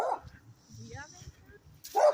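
A dog barks in short, sharp bursts close by, one at the start and a louder one near the end, with quieter rustling and a few faint sounds between.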